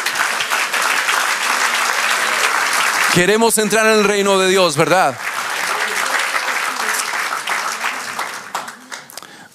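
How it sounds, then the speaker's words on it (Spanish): Church congregation applauding during a sermon, a full wash of clapping that runs beneath and between a preacher's speech, with a brief sung or drawn-out vocal passage cutting in partway through. "¿Cuántos quieren darle un aplauso al Señor?"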